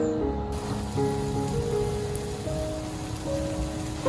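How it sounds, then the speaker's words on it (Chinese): Banana and glutinous rice flour batter pan-frying in oil in a flat pan on low heat, a soft continuous patter-like sizzle with faint steady tones underneath, no talking. "全程使用小火慢慢煎，"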